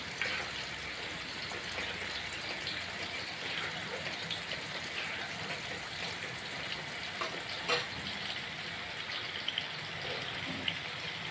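Small onions and dried red chillies frying in oil, a steady, moderate sizzle with occasional spatula scrapes and a brief clatter near the end, no one talking.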